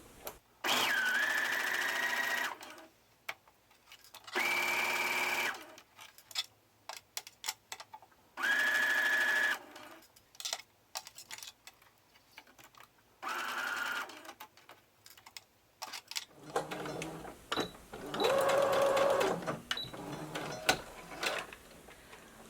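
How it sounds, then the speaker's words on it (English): A home sewing machine stitches a sleeve seam on a mock neck bishop sleeve top in several short whirring bursts separated by pauses, with brief reverse runs for back stitching, close and fairly quiet with no talking. "Begin sewing, back stitch, and continue sewing until you get to the other end and back stitch again."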